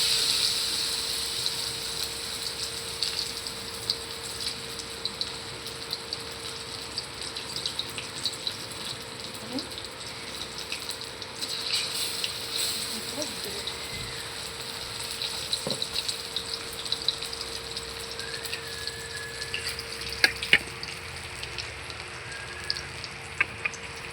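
Batter-coated ash gourd slices fry in hot oil as a steady, soft bubbling sizzle with a faint constant hum beneath and occasional light clicks and taps nearby.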